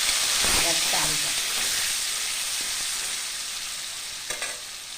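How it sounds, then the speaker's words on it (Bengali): Potatoes frying in a pan before rice is added, a dense, loud, steady sizzle with occasional scraping stirs and a brief clatter near the end, no talking. "আলুগুলো ভাজা ভাজা হয়ে গেছে, এবার চালটা।"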